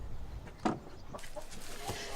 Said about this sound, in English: Here we are in the chicken shed, surrounded by shit.